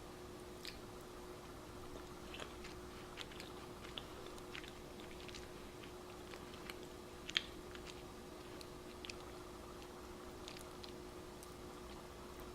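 Someone bites into and chews a gooey mini Robin Eggs brownie, with faint, sporadic soft squishes and small clicks over a low steady hum, quiet and close.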